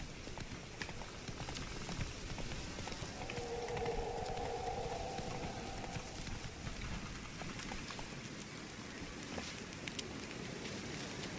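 The horse Roach gallops in The Witcher 3, a steady rapid patter of hooves under a continuous wash of rain, moderately faint and without pause.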